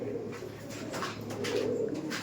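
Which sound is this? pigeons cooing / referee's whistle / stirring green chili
pigeons cooing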